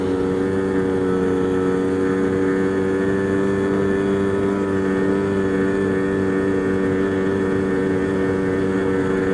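A Polaris Scrambler 250 three-wheeler, running poorly, roars through a top speed run with a loud, steady engine drone and strong humming tones that barely change throughout.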